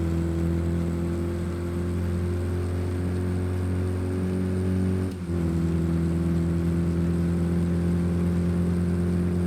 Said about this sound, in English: Really hear the new engine roar down this straightaway here.